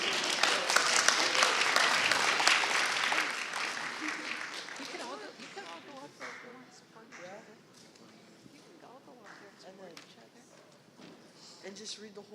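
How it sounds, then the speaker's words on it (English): Crowd applause at an elders and youth conference, loud and dense for the first few seconds and then thinning to scattered clapping, cheers and voices over the rest of the span. "Let's give them a big round of applause."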